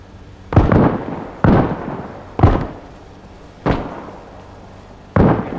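Gunfire in the video game Arma Reforger: five loud, sharp shots roughly a second apart, each with a short ringing decay, and no talking.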